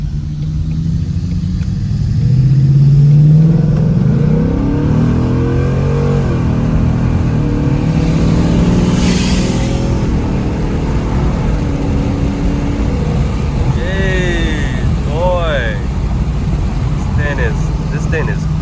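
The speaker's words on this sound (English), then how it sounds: "I don't know if y'all can hear the exhaust" Inside a 2019 Ford Mustang GT with an X-pipe exhaust on a city drive, the engine gives a steady low rumble that swells as it accelerates, under someone talking throughout.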